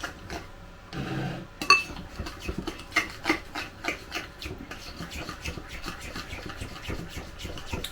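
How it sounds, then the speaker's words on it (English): A honey, maple syrup and mustard glaze is mixed in a bowl, with a utensil scraping and clinking against the dish in a steady, close rhythm, fairly quiet throughout. "So we're going to mix it all together."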